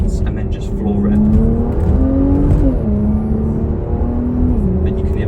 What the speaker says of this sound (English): Then you can hear the turbos go to max sport, 1 bar of pressure, full boost